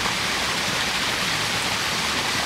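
A small cascade waterfall in a park gives a steady, loud rush of falling water with no break, close by and alone.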